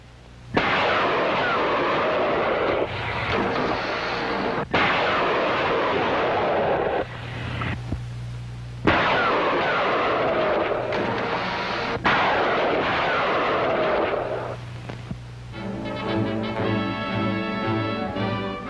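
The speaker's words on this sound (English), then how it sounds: "The 5-inch 38, or the rockets, can be fired from the CIC fire control centers." A WW2 landing ship medium (LSMR) fires its 5-inch 38 naval guns and rockets in a series of loud, heavy blasts. Each blast is followed by a sustained rushing roar, with brief gaps between salvos, on an archival training film recording.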